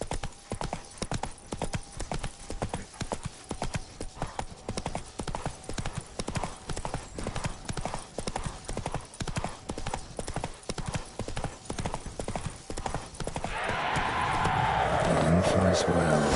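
Roach, a horse in The Witcher 3 game, trots with steady, close clip-clopping hooves, and a brief whinny and rustling rise near the end, with no talking over it.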